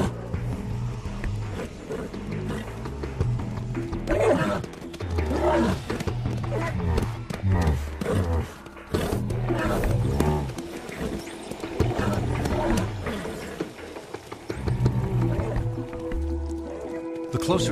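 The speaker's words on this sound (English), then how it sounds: "Leo locks onto a herd of creatures called unts." Herd of unts, fictional alien creatures on the planet Darvin IV, making deep roaring and rumbling calls with wet, squishy snorts, layered and continuous at moderate loudness with a narrator's voice running over them.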